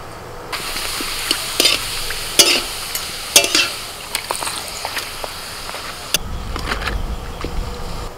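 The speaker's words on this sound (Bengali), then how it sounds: "সব শেষে পাঁপড় ভাজা।" Papad frying in hot oil in a home kitchen, a steady crackling sizzle with sharp pops and scrapes of stirring, growing louder and denser toward the end.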